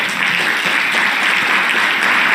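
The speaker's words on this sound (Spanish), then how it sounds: "Denle un aplauso al Señor si lo cree." A church congregation applauds steadily, a dense wash of clapping that holds at full strength throughout.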